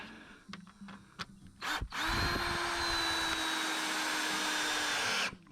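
A power drill drives screws into boards for a shadowbox fence around a generator: a few short bursts, then one long, loud, steady whirring run of about three seconds that stops abruptly, close up with no talking.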